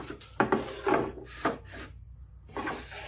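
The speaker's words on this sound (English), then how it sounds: "I'm going to cut the bevel off so it's a more square stock." A hand saw cuts the beveled edge off a piece of wood stock in several close, rasping strokes, each a short gritty burst with brief pauses between and a longer gap near the end; no talking.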